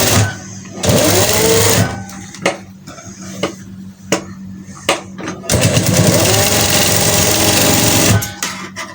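A sewing machine stitches a blouse latkan in two long, close, whirring runs with short clicks and handling knocks between them.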